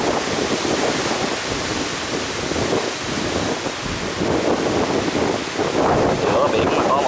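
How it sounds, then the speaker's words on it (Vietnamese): A high-speed ferry between Phu Quoc and Rach Gia runs through rough stormy seas, with loud constant roaring wind buffeting the microphone and waves crashing and surging around the hull throughout. "Giữa biển mà có một chiếc tàu phải nói là chạy nhìn mạnh mẽ thật sự."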